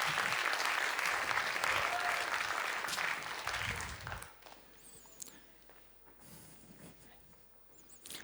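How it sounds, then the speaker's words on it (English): An audience claps warmly for a speaker at a science event, loud dense applause for about four seconds that then drops away to scattered claps and quiet room noise. "Give him a warm applause."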